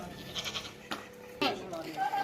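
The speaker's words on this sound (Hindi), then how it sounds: "वो 22 नंबर बकरा लेके आ रहा है, और ये खस्सी बकरा है।" Castrated male goat at a goat farm bleating a few times, short wavering cries close by, mixed in with people talking nearby.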